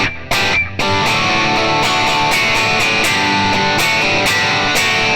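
Distorted electric guitar strumming the pre-chorus of a song, loud open chords left ringing, with a couple of quick choppy hits at the start before a dense, sustained wall of overdriven sound.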